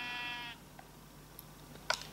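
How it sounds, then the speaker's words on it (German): A sheep in the Minecraft video game gives one clear, close bleat lasting about half a second, followed by quiet with a few faint clicks and a short burst of noise near the end. "Können wir das Schaf gleich rauslassen."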